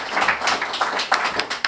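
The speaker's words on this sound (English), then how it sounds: "we should give a big round of applause for Phyllis" Audience applauding a Historical Society volunteer at a talk on old bathhouses, a dense steady patter of many hands clapping with no voices over it.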